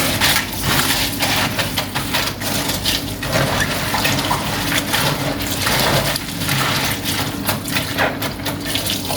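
Running tap water pours steadily into a sink while dried green beans are washed, with loud, close splashing and rustling that continues throughout.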